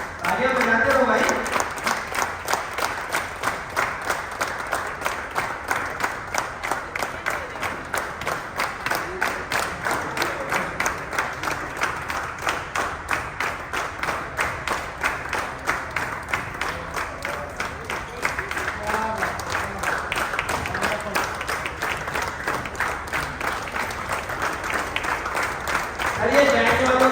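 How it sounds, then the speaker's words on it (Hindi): Sustained audience clapping at an XLRI campus gathering, a continuous dense patter of many hands lasting throughout, with voices faintly audible underneath. "तालियां बजाते रहो भाई।"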